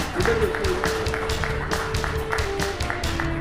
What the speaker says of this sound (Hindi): जोरदार तालियों से अभिनंदन और धन्यवाद।